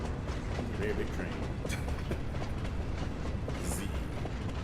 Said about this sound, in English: Very big train.